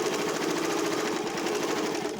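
A sewing machine runs a flat fell seam of the kind used on jeans, with a steady close rapid needle chatter and motor hum held without pause, no voices.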